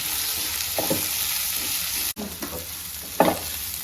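Onions salted in a pan fry with a steady, soft sizzle, with a few scraping stirs of a spatula and a sharp clack near the end, close by.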